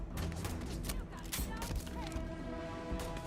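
Shotgun blasts from the game Starfield fire in a rapid run of sharp, loud bursts, several reports crowding close together under steady background game noise.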